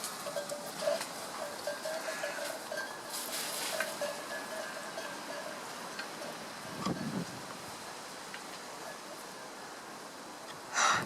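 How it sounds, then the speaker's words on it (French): A flock of sheep in Asturias is heard with bells clanking intermittently, set against a steady outdoor background with a brief louder knock at the end. "Il y a des moutons"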